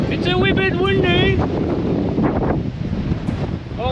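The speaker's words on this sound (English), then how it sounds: "It's a wee bit windy." Strong wind buffets the microphone on a hike up Concepcion Volcano on Ometepe Island, Nicaragua, a loud continuous low rumble; a person speaks over it.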